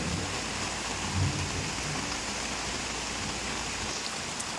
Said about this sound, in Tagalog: Biglang bumuhos yung malakas na ulan.